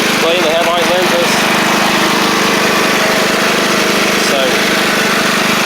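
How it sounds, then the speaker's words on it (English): A Troy-Bilt Pony 42X riding mower with a Powermore engine runs after carburetor work, a loud, close, steady engine drone throughout, with one brief spoken word over it. "it's an engine. It's going to backfire every once in a while."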